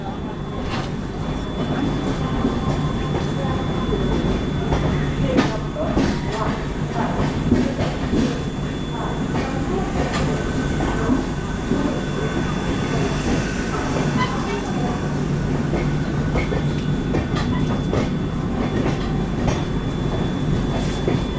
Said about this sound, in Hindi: अभी अपनी राजधानी निकल रही है झांसी रेलवे स्टेशन से